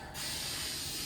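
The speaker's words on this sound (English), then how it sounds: "now I'm going to start spraying on the clear coat." An aerosol can of clear coat sprays a piano finish, a continuous, bright hiss at close range after a brief moment of quiet.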